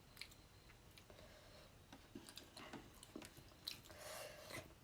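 Someone eating fish at close range, with faint wet chewing, soft bites and small squishy mouth sounds that come in irregular bursts over a quiet background, no talking.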